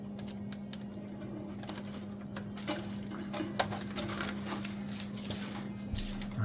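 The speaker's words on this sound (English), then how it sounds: "this part that's still in the feeder, I'm just going to wiggle out, and I can grab it from the back and pull it out through the feeder" A stuck part is wiggled and pulled out of a DDM Novastar L-BF-12 feeder, making quick, light clicks and small rattles close by over a steady machine hum.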